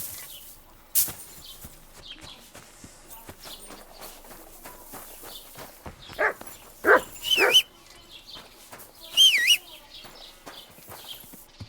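A dog in the Kingdom Come: Deliverance 2 video game, a few sharp barks and yelps scattered over quiet ambience, with brief clattering sounds in between.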